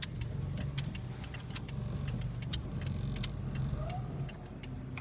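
Car engine idling and running low in a steady drone during a reversing manoeuvre on a driving practice route, with scattered light clicks and rattles inside the cabin.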